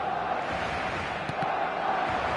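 Steady stadium crowd roar from an eFootball match, a dense continuous murmur of chanting and cheering with no breaks, even in level throughout.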